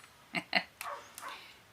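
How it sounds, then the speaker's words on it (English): An outside dog gives a quick pair of barks followed by a couple of softer yips, faint and somewhat distant, with no talking over them. "sorry if you can hear the outside dog barking."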